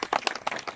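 Short burst of audience clapping at a Punjabi turban-tying (dastar bandi) ceremony honouring a teacher and student, several uneven sharp claps close together over about a second.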